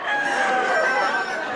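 A rooster crows loudly and close at a cockfight in the Philippines, one sustained strained call over noisy crowd ambience.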